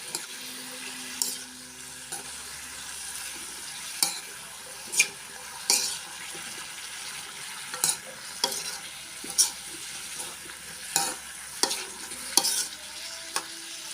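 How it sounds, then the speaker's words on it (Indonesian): A spatula stirs bean sprouts and cucumber frying in a pan. Soft sizzling runs throughout, with regular scraping clinks against the metal every second or so, close up and with no voices. "ini saya masukkan timunnya dulu. Aduk-aduk lagi."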